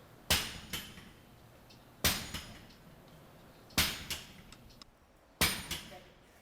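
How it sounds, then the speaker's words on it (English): Blacksmiths shape hot iron for a split cross, one hammer striking while others hold; four separate bursts of sharp ringing metal blows, each a quick double strike, with short pauses between. "They use one hammer to hit and shape, and the other hammers to hold."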